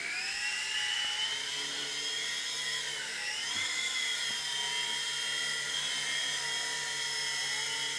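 A small four-channel radio-controlled helicopter whirs with a continuous high-pitched motor whine that dips and rises in pitch as it is flown, close and steady, with no talking.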